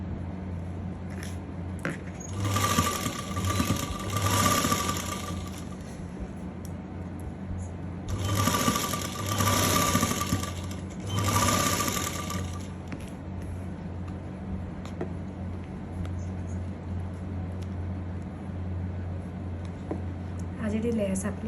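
A domestic sewing machine stitches elastic lace onto fabric, running in several loud mechanical bursts of a few seconds each, with pauses between runs and low background hum throughout.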